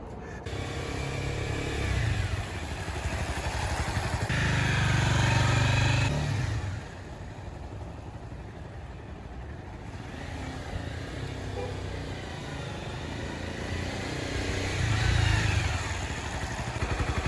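A motorcycle engine running continuously as a beginner rider works the clutch, with a steady mid-pitched drone that swells into louder revs a couple of times and eases back to a lower hum between them.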